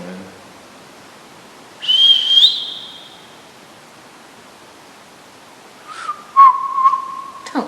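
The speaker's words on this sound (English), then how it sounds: "Don't whistle, you're embarrassing." Person whistling in a quiet, dark interior of an old prison: a short rising whistle, a long pause of faint hiss, then a second longer two-tone whistle near the end.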